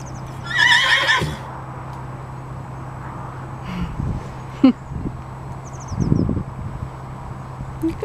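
Horses neigh and whinny at a stud farm, one loud close whinny early on followed by fainter calls and snorts, with a low steady hum, light outdoor rustling and occasional distant birds.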